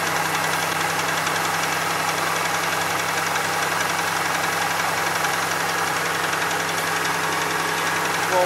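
A 2002 Chevy Malibu engine runs loudly close up with a steady droning, knocking rumble that holds constant throughout, no voices over it.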